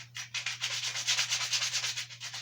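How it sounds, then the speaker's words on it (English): Steady back-and-forth strokes of hand sanding on wooden horses with 40-grit sandpaper, a rhythmic scratchy rasp repeating about every tenth of a second, close and alone. "when you're sanding with a free hand"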